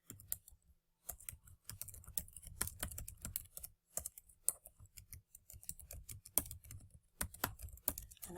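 Fast typing on a computer keyboard, bursts of close, crisp key clicks in uneven runs separated by short pauses.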